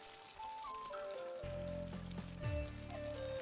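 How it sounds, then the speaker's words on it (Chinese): Sugar fritter dough made from flour and egg, dropped into moderately hot oil for deep-frying, gives a steady, close crackling sizzle throughout, growing louder partway through, under soft background music. "油温4成热下锅，下入生坯可以快速浮起的状态。"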